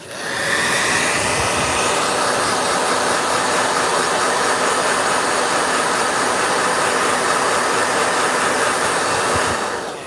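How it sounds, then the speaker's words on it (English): A blow dryer roars loud and close for about ten seconds while drying a gouache painting, a steady, even rush of air starting and cutting off abruptly at the ends. "Yeah, blow dryer."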